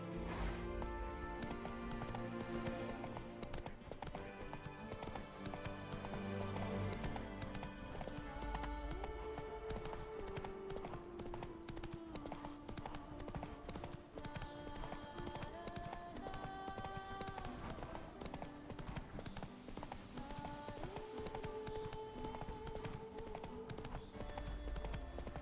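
Roach the horse's hooves clip-clop at a steady walking rhythm in The Witcher 3, sitting under a continuous layer of game music.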